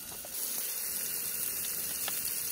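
Onion frying in fat: a steady, loud hiss and sizzle that holds evenly throughout, with faint clinks and no voices.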